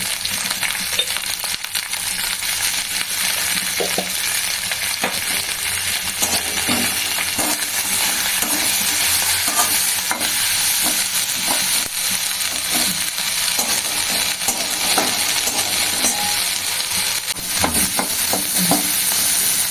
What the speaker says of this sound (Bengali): কারি পাতা দিয়ে কুমড়ি ভাজা